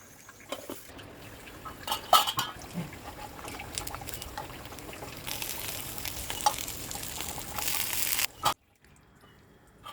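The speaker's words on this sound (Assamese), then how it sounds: "এতিয়া এইখিনি গৰম তেলত ফ্ৰাই কৰি" Bora fritters frying in hot oil, a steady faint sizzle with small crackles and a few sharp clinks, ending abruptly in near silence.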